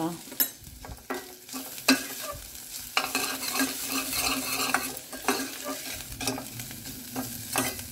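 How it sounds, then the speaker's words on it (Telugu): Capsicum curry base of fenugreek leaves, coriander, ginger-garlic paste and turmeric frying in oil, with a close sizzle under busy, repeated stirring scrapes and clinks of a utensil against the pan. "ఇవి కొంచెం నూనెలో ఫ్రై కావాలి"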